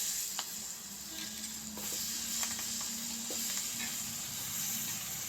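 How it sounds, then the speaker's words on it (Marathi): Onions dropped into a hot tempering of oil with asafoetida, goda masala and white sesame seeds, giving a steady close sizzle with faint stirring clicks throughout, no voices. "नंतर हे कांदे आपण फोडणीला टाकणार."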